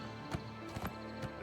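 Horse hooves clip-clop on the ground in the game Oblivion Remastered, three or four soft, fairly quiet steps at an uneven pace over a steady low background hum.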